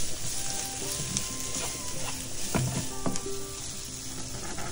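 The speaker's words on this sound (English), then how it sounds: "Then I add minced garlic. Let it saute for about 1 minute." Minced garlic sautéing in a pan for oxtail rasta pasta, a continuous bright sizzle with a few light utensil clicks and scrapes, close and steady.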